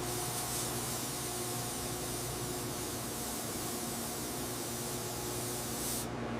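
A spray gun lays down the first coat of paint on a 1955 Chevrolet Tri Five, giving a dense, continuous hiss that holds steady at close range for several seconds, with no voices over it.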